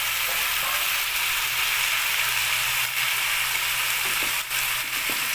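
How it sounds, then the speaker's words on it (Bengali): Potatoes frying in hot oil alongside capsicum, radish and eggplant, a steady loud sizzle with crackling throughout, occasional stirring knocks, no voices. "সবগুলোকে ফ্রাই করা হবে ভালো করে। আমাদের এবার আলু দেওয়া হচ্ছে।"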